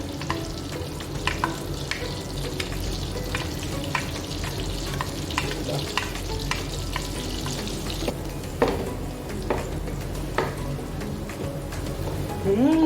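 Garlic for buttered garlic shrimp fries in a pan with a steady, moderately loud sizzle and crackle. Occasional stirring clatter sounds throughout.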